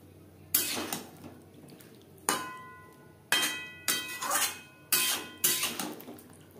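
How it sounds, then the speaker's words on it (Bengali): Boiled maan kochu, a giant taro, being stirred into spices in a metal pan; a spatula clanks and scrapes about six times in irregular strokes, close and distinct, with quiet gaps between. "মশলার সাথে কচু বেশ ভালো করে মিক্সড করে দেব।"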